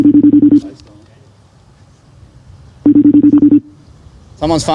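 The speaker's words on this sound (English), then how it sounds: "Someone's phone's ringing in the crowd here." A loud electronic phone ring repeats in two bursts of rapid pulsing tones, separated by a quieter stretch of crowd murmur, with voices rising at the end.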